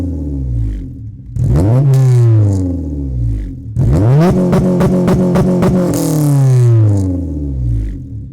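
A Honda Civic Type R EP3 with a Spoon N1 exhaust, bung removed, is revved hard twice from idle, each rev rising sharply to a loud rasping peak before falling back, the second with quick repeated blips.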